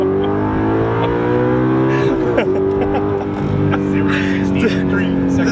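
A nearby Audi R8 engine roars under hard acceleration, rising in pitch and then dropping with a quick gear change before climbing again. The sound is loud and sustained.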